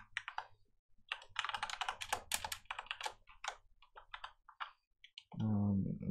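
C# code being typed on a computer keyboard while building a Unity game, heard as quick bursts of close clicking keystrokes over a low hum, ending in a brief loud tonal sound.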